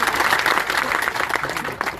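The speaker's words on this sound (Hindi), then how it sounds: "एक बार जोरदार ताली बजाइए पूर्णमाराम जी के लिए" Loud crowd applause at an outdoor farmers' protest rally during a collector's office gherao in Sanchore, dense rapid clapping from many hands sustained throughout, with a voice faintly mixed in.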